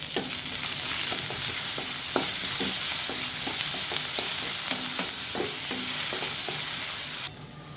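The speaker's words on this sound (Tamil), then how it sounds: "இப்போ தக்காளி கொஞ்சமாக ஆட் பண்ணிக்கலாம்." Tomatoes are stir-fried in a pan for a spicy chutney, with a steady sizzle and a regular rhythm of scraping spatula strokes throughout. The sizzle cuts off abruptly near the end.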